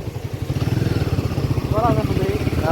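A motorcycle ridden on a road near Margao, Goa, gives a loud, close, steady engine chug, with voices calling out over it toward the end.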